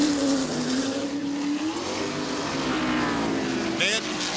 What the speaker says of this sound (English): You heard that engine go, wow, wow, wow.